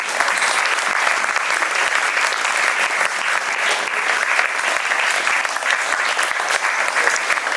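Sustained, dense applause from an audience honouring a recipient at a Gujarati acting and arts guidance gathering, steady and loud throughout with no talk over it.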